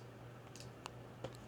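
A few quiet computer mouse clicks while working in Fusion 360 design software, two or three sharp isolated clicks over a low steady electrical hum.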